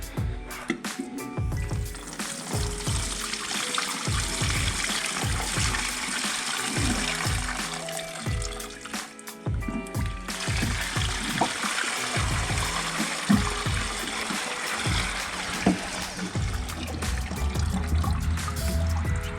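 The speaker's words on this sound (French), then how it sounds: "quand tu nettoies ton filtre, tu le fais avec une source d'eau pas trop violente" A K&N air filter from a Chrysler Crossfire being rinsed under gentle running water, a steady close splashing and trickling stream with irregular drips and spatters throughout, and no talk.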